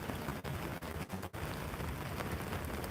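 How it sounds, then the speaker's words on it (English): Steady rain falling on a surface outdoors in Georgia, a dense, even hiss close by with a few brief dips, no voices. "It's raining, y'all."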